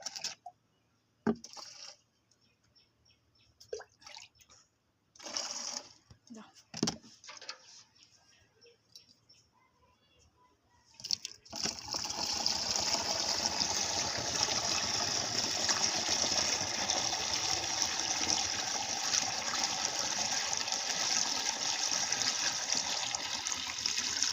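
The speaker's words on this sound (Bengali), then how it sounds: "বেশি করে জল ফেলবো" Water is poured steadily, a continuous loud rush that starts midway after a few short splashes and knocks. It runs alone until the end, with no speech.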